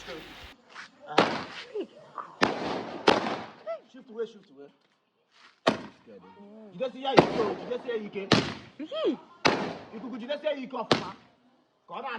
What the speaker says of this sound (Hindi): रात को बड़े भैया आए पटाखे के साथ।